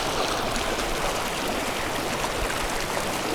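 A low mountain stream near Tioga Pass in Yosemite in late August, a steady broadband rush of flowing water running close and continuous throughout with no voices.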